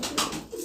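Sherazi pigeons coo close by, a short, soft throaty call with a low rolling hum lasting under a second, set against an airy background of hiss.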